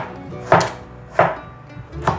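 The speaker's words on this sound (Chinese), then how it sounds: "把姜切片" A knife cuts ginger into slices on a cutting board, three crisp, close chops spaced about half a second apart, with quiet between them and no talk.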